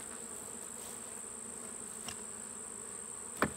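Honey bees buzzing around an opened beehive during honey extraction, with hive beetles present; a faint, steady drone of wings close by, with a couple of brief louder buzzes as individual bees pass the microphone.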